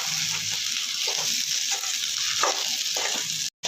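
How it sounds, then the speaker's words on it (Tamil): Raw mango pieces sautéing in oil with chili powder for mango pickle, a loud, close sizzle and crackle with intermittent stirring, ending in a brief dropout. "நல்லா மாங்காய் போட்டு கொஞ்சம் நல்லா வதக்கிடலாம்."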